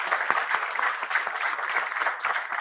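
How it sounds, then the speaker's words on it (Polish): Steady applause from a crowd at the opening ceremony of a regional emergency medical rescue competition in Poland, many hands clapping continuously at an even level throughout. "większe brawa się należą"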